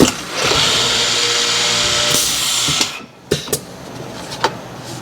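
A woodworking boring machine cuts holes in cherry cabinet parts with a loud, sustained whine. It stops abruptly, followed by a few sharp knocks and clunks.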